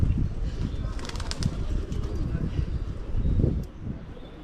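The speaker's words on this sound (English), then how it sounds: "we are parked underneath hundreds of pigeons" Hundreds of pigeons crowd overhead above a parked van in Portugal, their wings flapping in rapid bursts over a continuous low churn of soft cooing and rustling, fairly close, with a brief human murmur.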